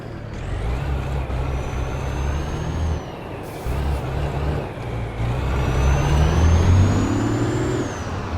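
Mitsubishi FE 449 garbage truck in Euro Truck Simulator 2 hissing with air-brake bursts over a steady low diesel rumble, the engine note rising as it strains to pull away, loud and close throughout.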